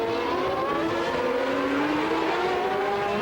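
Formula One race cars at the 1992 Monaco Grand Prix, an engine holding a loud, continuous high-pitched whine that slowly climbs in pitch, heard close and unbroken with no talk.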